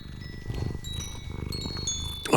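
A cat purrs in a close, steady rhythmic rumble of repeated pulses, with a faint ringing tone drifting over it and a brief clatter at the very end.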